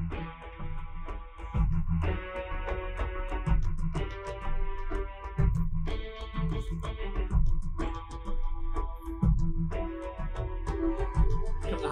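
Soloed MIDI percussion from Halo game music plays as repeated booming drum hits in a driving rhythmic pattern. Sustained tonal layers ring over the drums, steady and moderately loud, with no voices.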